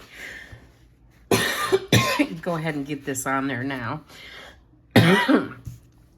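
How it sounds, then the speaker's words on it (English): Someone speaks, then breaks into harsh coughs, one burst at the start and another a few seconds later, close to the microphone. "Another coughing fit."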